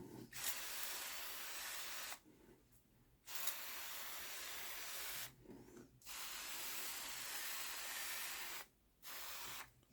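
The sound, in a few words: spraying neem oil soap solution onto plant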